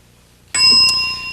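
A game show bell rings once with a sharp, loud ding that rings on and slowly fades, after a brief moment of near silence.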